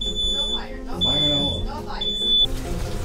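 A smoke detector alarm aboard a boat sounds in sharp, piercing beeps, each lasting about half a second with short gaps between them, loud and close, while people talk underneath.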